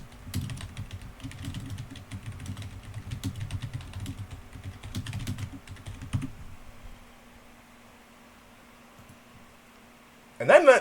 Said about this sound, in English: I just pressed Control D on my keyboard